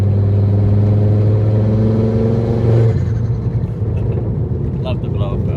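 A street-driven, turbocharged front-wheel-drive WRC tribute rally car runs a straight 3-inch exhaust from the turbo back with no mufflers. It gives a loud, close, rasping engine drone that swells, then drops off about halfway through, with voices around it.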